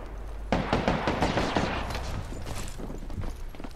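Rapid gunfire in the battle royale shooter Apex Legends, a dense burst of loud, overlapping shots that starts abruptly and keeps rattling without pause to the end, with no talk over it.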